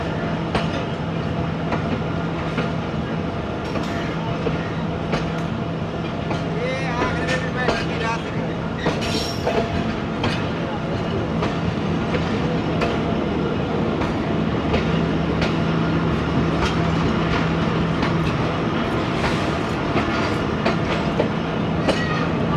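The Fareed Express passenger train runs over the rails on the main line through rural Punjab. A continuous rumble carries steady clickety-clack from the wheels, heard loud and close from on board with faint voices underneath.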